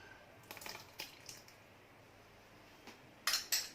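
A utensil mixes semolina cake batter with lemon and milk in a bowl, giving scattered soft clinks and wet scraping taps, with a couple of sharper clatters near the end over a quiet background.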